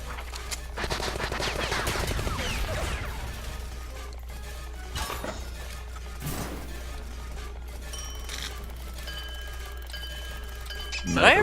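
Sustained machine gun fire in the game Rain Slick Precipice of Darkness, a dense rapid rattle over the first few seconds, then scattered impacts, crashes and shattering, with a constant low hum beneath.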